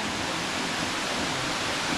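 The Pittaguda waterfall, a steady broadband roar of falling water that does not let up, close and fairly loud with no voices.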